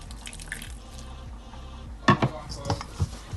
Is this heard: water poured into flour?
yes